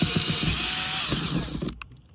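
A loud, steady power drill with a step drill bit whines as it bores, with rhythmic grinding pulses, then cuts off abruptly near the end.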